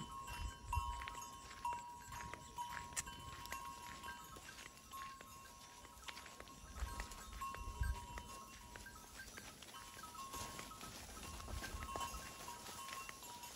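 Local Khari goats grazing in the open in eastern Nepal, with scattered bleats and shuffling over a steady background drone, no talking.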